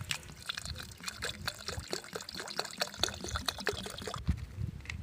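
A steady stream of water pours and splashes into a container, running continuously for several seconds with no talking.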